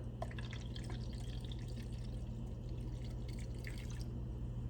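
Water is poured into an agar mixture for mushroom growing, giving a steady close trickle and splash with scattered drips over a constant low hum, with no voices.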